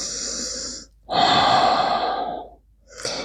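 Slow yoga breathing during a flowing sequence: a long audible exhale, a pause, then another long breath in and out, close and clear, with a third breath starting at the end.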